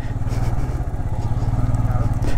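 Motorcycle engine running steadily up close while riding over a rough, rocky mountain road in Ladakh, with a continuous pulsing low drone throughout.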